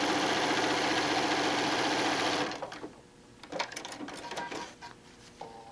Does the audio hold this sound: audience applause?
no